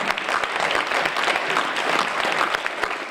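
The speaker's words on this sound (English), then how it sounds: "let's give him his just due, an applause and appreciation" Audience at a Black Legends Hall of Fame celebration applauding honoree Hewitt Joyner, sustained close, dense clapping from a large crowd.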